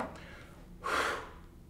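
A person blows a single long, breathy gust of air into a roughly seven-foot diaper genie bag, a brief close rush of breath lasting under half a second.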